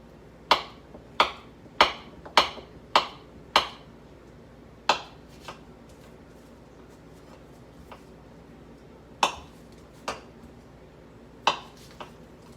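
A knife cutting butter into small chunks for biscuits, with a run of sharp, evenly spaced taps on a board followed by a few scattered ones, close and clear with no speech.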